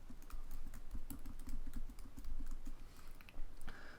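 Password typed on a computer keyboard, a quick run of soft, close key clicks in an uneven tapping rhythm with no talking.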